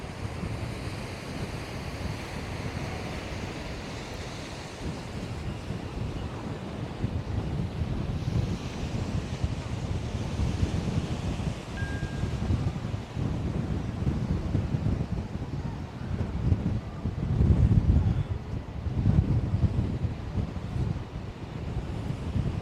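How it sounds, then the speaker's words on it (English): Strong gusty wind buffets the microphone on the Blackpool seafront, with waves and surf rumbling beneath it in a continuous roar that swells near the end. "Even the camera's struggling to get level here. Wind's so vicious."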